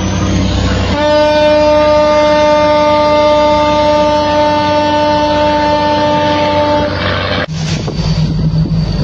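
A ship's loud, sustained horn blast with steady harmonic tones holds for several seconds over engine rumble during a pursuit at sea, then cuts off abruptly.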